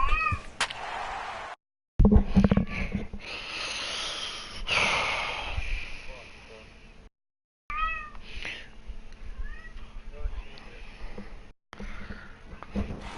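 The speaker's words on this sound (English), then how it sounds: "Well, the cat's at it again." A cat meows and snorts repeatedly at close range, with rising calls, breathy snuffles and raspy exhales, broken up by short silent gaps.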